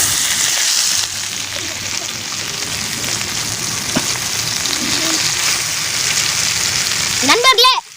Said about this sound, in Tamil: போட்ட வண்ண மீன் எப்படி பொரிக்குது பாருங்க